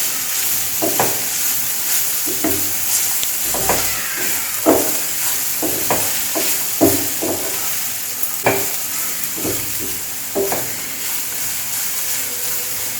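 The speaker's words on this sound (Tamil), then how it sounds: "நெய்யில் கொஞ்சம் வதக்கி போட்டோம்னா நல்லாயிருக்கும்." Thickly grated ingredients sauté in ghee for a Maha Shivaratri prasadam, with a steady sizzle broken by repeated scraping spoon strokes. The sound is close and there is no talk.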